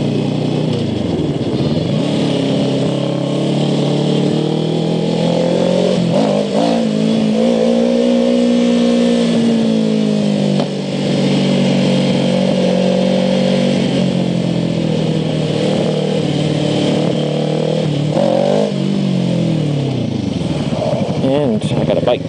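A motorcycle engine drones steadily throughout with pitch rising and falling as it revs while riding, loud and close, with a voice talking over it.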